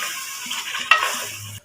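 Chicken is stirred with vinegar, soy sauce and chili sauce in a pan, giving a brief, soft sizzle with a scraping stir and a light clink of a utensil near the end.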